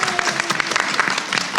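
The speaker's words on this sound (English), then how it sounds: "we can clap for you just a little bit" An audience claps for a team standing up at a live event, steady dense applause filling the room throughout, fairly close and even in loudness.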